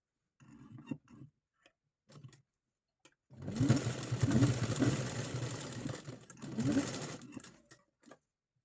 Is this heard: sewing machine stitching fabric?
yes